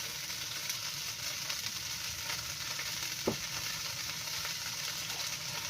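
A little cooking oil sizzles steadily in a frying pan, a fine continuous crackle at moderate volume with one brief scrape or clink partway through, no voices.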